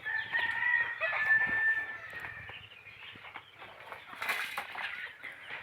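Desi chickens cluck softly while a rooster crows once early on, then scattered clucks and a brief rustle follow at moderate distance.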